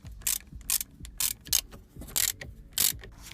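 A hand ratchet clicks in quick repeated bursts while loosening the 13mm bolts on a Porsche 944 shift lever, close up with short pauses between strokes.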